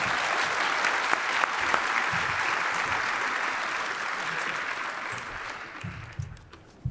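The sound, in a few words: audience applause welcoming a speaker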